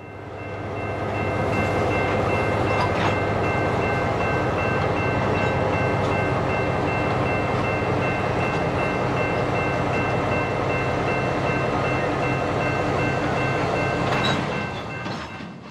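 A Norfolk Southern local freight train with a Conrail caboose rumbles steadily past at close range, wheels and cars grinding and clattering in a loud continuous roar as it slows, with brief squeals near the end.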